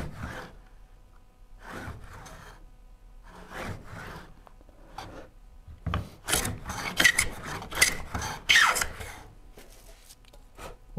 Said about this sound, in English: that little bit of filing gave me just enough room, actually.